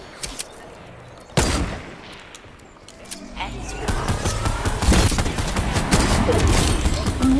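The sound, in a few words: sniper rifle gunfire in the video game Fortnite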